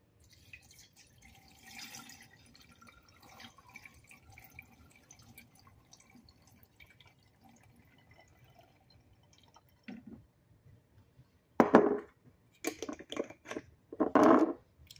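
Green tea drips and trickles through a filter into a container, faint and sparse at first, then a few louder splashing pours near the end.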